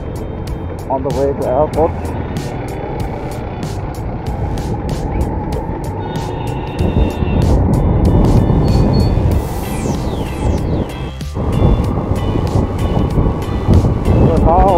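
A car drives along a road in Bhaktapur, its engine and road noise a steady loud rumble with wind buffeting the microphone, while a person talks over it throughout.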